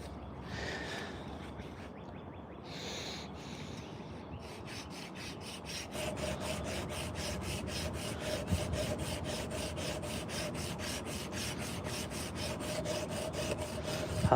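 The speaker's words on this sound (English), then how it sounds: "High speed sander." A high-speed sander works a carved wooden coffee scoop, a steady close abrasive rasp with a fast pulsing rhythm that settles in after some irregular scraping and rubbing at the start.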